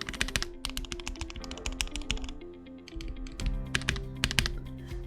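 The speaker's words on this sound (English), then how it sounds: "I love the sound of the keyboard as it is" Rapid, steady typing on a Keychron Q4 mechanical keyboard fitted with Gateron North Pole switches and lubed stock stabilizers, close and crisp, with dense clacky keystrokes and a brief pause midway.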